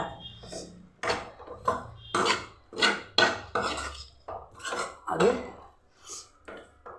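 Bean and grated coconut stir-fry tossed in a pan, a spoon scraping and clattering against the metal in a steady run of strokes, close and fairly loud with no talk.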